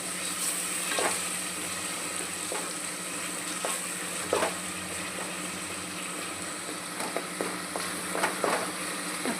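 Ginger garlic paste sautéing with onion and tomato in a pan, a continuous close sizzle with scattered scraping stir clicks and spatula knocks, no talking.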